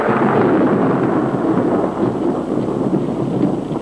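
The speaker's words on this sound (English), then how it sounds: "It's raining cats and dogs." Heavy rain pouring steadily with a deep continuous rumble of thunder, loud and dense throughout with no pauses.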